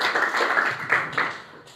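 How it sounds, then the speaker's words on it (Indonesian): A church congregation claps in praise at a service, a dense, bright patter of many hands that swells in a few surges before tapering off. "Tepuk tangan yang terbaik buat Tuhan Yesus Kristus"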